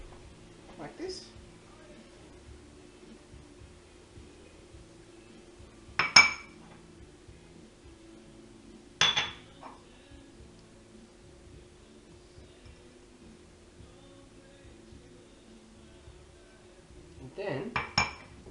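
A few sharp clinks of dishes ring out as souffle molds are greased, isolated taps separated by quiet stretches, with brief speech.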